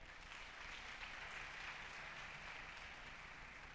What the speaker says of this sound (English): Please, let's clap hands for them.